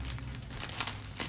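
Plastic wrapping film for a gift basket crinkles and tears close up, a continuous quiet rustling crackle with a few sharper crisp bursts, heard alone.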